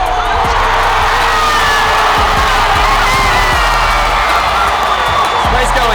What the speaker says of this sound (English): This crowd's about to go nuts.